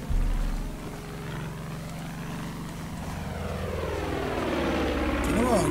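Aircraft rotor and engine drone from a helicopter in the shooter game Far Cry 5, a steady loud hum throughout with game sounds layered on top.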